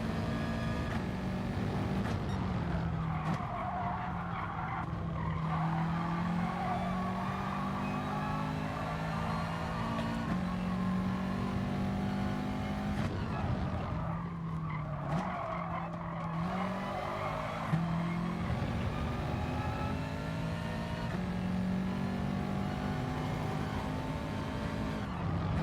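Subaru racing car in the video game GT Sport, engine droning continuously with rising and falling pitch through gear changes, tyres squealing and skidding across the corners, loud and steady throughout with no talk.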